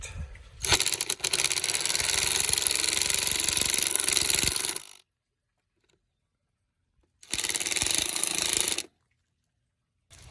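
An impact driver runs blue masonry screws into a concrete block wall in two bursts, a long rattling hammering of about four seconds, a pause, then a shorter burst, close and loud.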